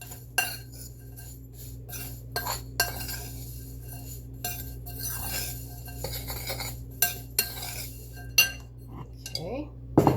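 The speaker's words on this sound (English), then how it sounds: "Give that a good stir." A spoon clinks and scrapes around a bowl while stirring cake batter with cinnamon and baking powder, a series of sharp irregular taps and knocks against the bowl over a quiet hum.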